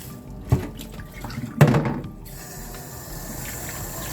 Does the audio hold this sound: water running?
yes